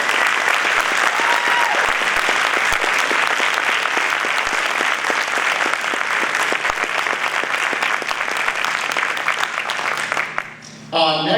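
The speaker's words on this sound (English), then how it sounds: "please give these students a round of applause for their success." At a high school winter band concert, the audience gives a long, dense round of applause lasting about ten seconds at a steady, full level, then drops off abruptly as a voice begins.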